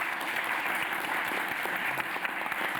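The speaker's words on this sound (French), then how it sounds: "je crois qu'on peut les applaudir" A festival talk audience applauds steadily, a dense wash of many hands clapping at moderate distance without a break, fairly soft overall.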